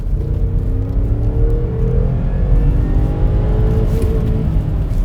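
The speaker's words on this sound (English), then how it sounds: "Oh, I really do like the supercharger whine there." A supercharged car accelerates hard in sport mode, its engine roaring close and loud with a rising whine that climbs steadily over a deep rumble throughout.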